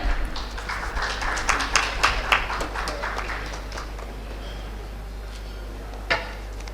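Round of applause from the audience at a railway and transportation safety expo session, loud clapping at first that thins out and fades toward the end, with a last stray clap.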